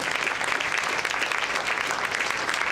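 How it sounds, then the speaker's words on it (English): Steady round of applause from an audience at an international yoga festival gathering, thanking the yoga teachers, dense and even throughout with no talk over it. "can we have a big round of applause for all of our yogacharyas?"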